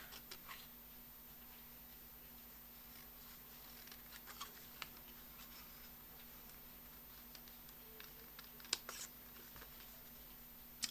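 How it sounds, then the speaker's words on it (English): Paper snips cutting die-cut cardstock pieces for a desert-themed stamp and die card, a series of faint, irregular little snips and ticks spread across a quiet room background, growing a bit sharper toward the end. "actually I'm just going to use paper snips for that"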